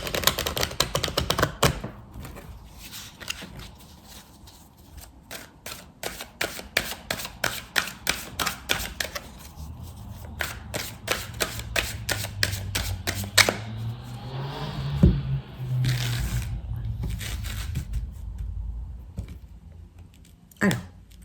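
Persian tarot cards shuffled by hand, heard as long runs of rapid, close, crisp riffling clicks in quick bursts, broken by short pauses and a softer rustling stretch, with no voices.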